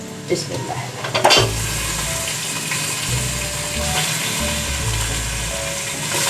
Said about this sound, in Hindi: प्याज हमारी लाइट गोल्डन हो गई है। अब हम इसमें मटन ऐड कर रहे हैं।